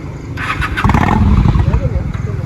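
A Honda motorcycle engine cranks and catches, rising into a loud rumbling idle nearby, with a voice speaking briefly over it.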